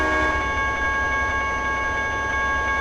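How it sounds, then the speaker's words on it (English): Sustained train horn blast from a locomotive in the Trainz 2010 railroad simulator, a steady harmonic chord held loud and continuous over rumbling engine noise, with no talking. "Oops, forgot my horn."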